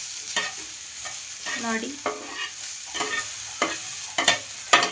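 Vegetable slices frying in a hot pan while being stirred, with scraping strokes and soft sizzling recurring in short bursts; one brief spoken word.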